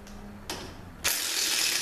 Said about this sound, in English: the next thing we're going to take out is the center support bolt, which is a 3/8 12 point